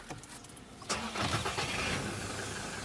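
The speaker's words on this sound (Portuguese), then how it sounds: "O barulho do motor do trator." A pickup truck engine, driven on rough back roads on a hot day, cranks and catches about a second in, then settles into a steady, close mid-pitched idle.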